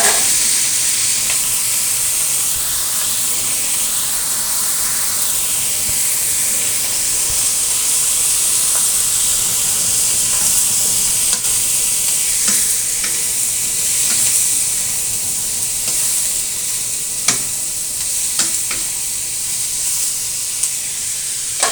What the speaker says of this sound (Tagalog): Maggigisa tayo ng sitaw.